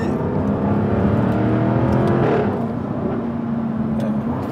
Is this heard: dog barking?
no